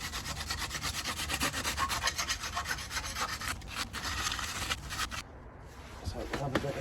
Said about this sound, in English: Got a bit of emery cloth on the end of a file there just to give this a bit of a once over inside the hub here